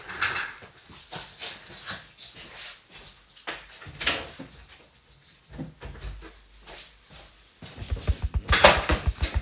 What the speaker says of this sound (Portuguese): eu vou ter que abrir a porta para esse cachorro sair.